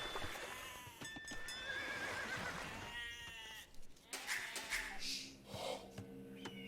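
Sheep bleats from the Age of Empires 2 Definitive Edition strategy game, a few short calls rising over busy game sounds, horse whinnies and clip-clop hooves, with no talking.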